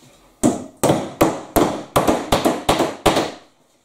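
Roof trim being lightly pinned in place, heard as eight sharp, close, loud taps in an even rhythm of about two per second, each with a brief ring-off and no talking between them.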